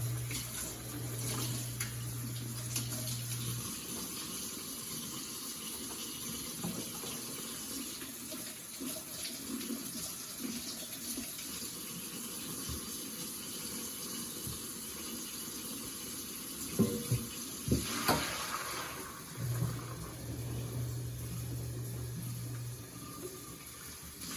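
Tap water runs steadily into a sink while a Ninja blender is rinsed, a continuous close splashing hiss with a few sharper clatters and gurgles near the end.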